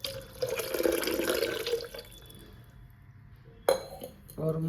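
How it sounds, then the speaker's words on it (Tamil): Water pours into a soup maker jug in a kitchen, a bright splashing stream for a couple of seconds, then quiet, followed by a sharp clink and a short second splash. "ஒரு மார்க் ஃபுல்லாக தண்ணி ஊற்றிட்டேன்"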